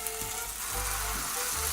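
Bread and fillings for a lunchmeat panini sizzle steadily in a hot pan pressed like a homemade panini press, a close, continuous frying crackle with low thumps and no talk.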